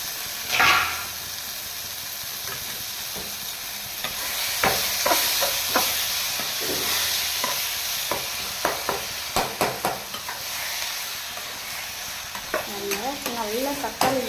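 Tomatoes fry in a pan with curry leaves and coriander leaves, a steady sizzle under repeated scraping stirs of a spoon, with clinks and clatters clustering toward the end.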